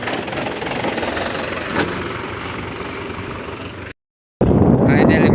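A tractor engine idles on a farm during sowing work. It makes a steady, close mechanical rumble with a constant throb that continues until a brief cut near the end, with some voices under it.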